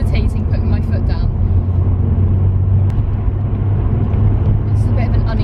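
A Nissan S15 car drives on an uneven road, its engine holding a steady loud low drone at about 3,000 rpm from inside the cabin, with a person talking over it.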